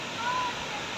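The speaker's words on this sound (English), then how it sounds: "So this is the first waterfall" Gatitika Twin Falls in Kirinyaga, Kenya, fed by glacier meltwater from Mount Kenya, gives off a steady broadband roar of falling water, fairly loud and continuous with no pauses.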